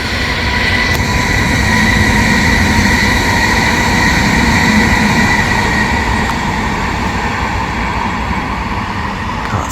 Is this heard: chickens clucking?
no